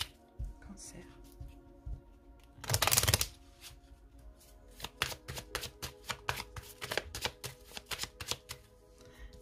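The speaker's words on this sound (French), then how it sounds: "Donc, je les mélange bien." Tarot cards being shuffled by hand, with a burst of riffling near the start followed by a run of quick, crisp card slaps and taps close to the microphone.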